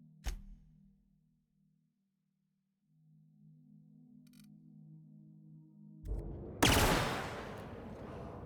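A weapon in the sci-fi video game The Outer Worlds hums as it charges up with a low steady drone, then lets off a loud burst of fire with a sharp, noisy blast.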